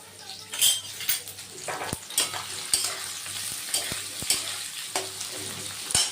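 Onions fry in a pan until browned, with a continuous sizzle under frequent sharp metal clinks and scrapes of a spoon against the pan, close and moderately loud, with no voices.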